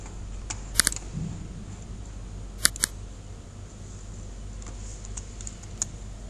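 Scattered clicks of a computer keyboard as code is typed, faint and sparse with a few sharper keystrokes over a quiet room hum.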